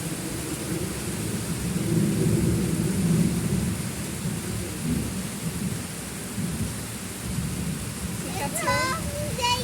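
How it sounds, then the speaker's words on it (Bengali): Steady heavy rain pours down with a train's low rumbling roar underneath, constant and enveloping, with a brief chirping sound near the end. "এভাবে বৃষ্টির শব্দ শুনতে কার না ভালো লাগে বলেন"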